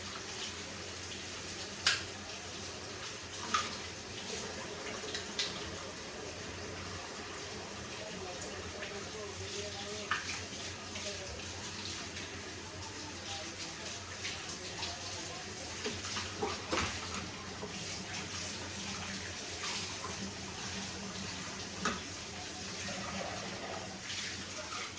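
Water runs continuously from a tap in a home in Texas, a steady rushing hiss with occasional clunks and splashes, while a person talks intermittently nearby.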